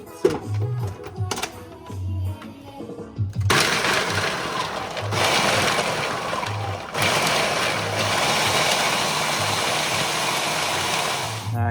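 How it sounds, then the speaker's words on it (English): A food processor grates fresh coconut for a vegan Trini coconut bake, its motor whirring loudly and steadily in bursts, with rattling and grinding as the coconut breaks down. "put this in the food processor here and get it all nice and grated"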